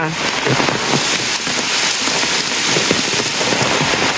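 Steady heavy rain pattering on a surface nearby, a loud continuous wash of drops with no breaks.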